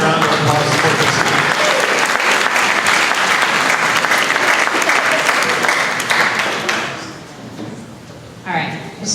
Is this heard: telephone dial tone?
no